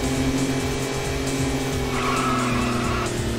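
A race car in Sega GT on the Dreamcast skids with continuous tire squeal over a loud, steady engine tone, the squeal shifting higher partway through.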